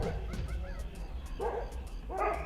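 Several medium-sized dogs near a shrine in Thailand give a few short barks and yips at close range over a steady background rumble, with faint talk mixed in.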